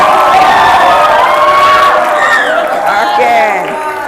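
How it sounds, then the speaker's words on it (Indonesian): High school students at a safe-schools seminar in Jakarta clap, cheer and shout together, a loud, lively crowd roar with high-pitched voices and whoops running throughout. "kita beri tepuk tangan dulu nanti yang cewek ya"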